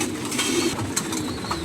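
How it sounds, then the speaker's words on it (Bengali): Racing pigeons kept in pairs coo softly under a loud, steady background hiss, with no voices. "এগুলো হচ্ছে রেস করা পেয়ার, স্পেশাল চমৎকার কিছু কোয়ালিটি ফুল কবুতর রাখা আছে"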